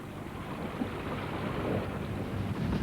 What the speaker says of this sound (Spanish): como lluvia